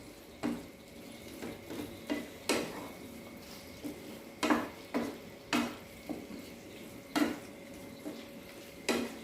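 A spoon scrapes and clinks against a pan as fried prawns are stirred for prawn manchurian, giving a series of separate metallic knocks and scrapes about once a second over a faint sizzle.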